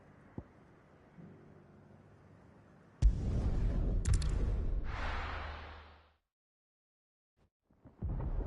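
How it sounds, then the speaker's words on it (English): Thunder in Final Fantasy XVI, a sudden heavy rumbling crash that swells and slowly fades over a few seconds, then silence before other sounds resume. "Sounds like thunder."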